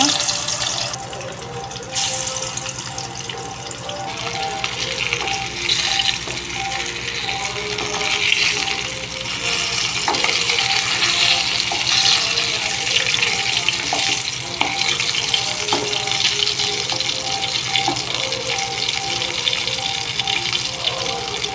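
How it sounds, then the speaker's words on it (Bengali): Fish frying in hot mustard oil in a wok makes a loud, constant hissing sizzle up close, with small pops and utensil taps throughout. "কড়াই মাছ দিয়ে দেব ভাজার জন্য"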